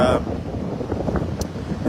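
Strong winter wind in Mauritius buffets the microphone with a low, continuous rumble, gusting steadily throughout without any clear talk.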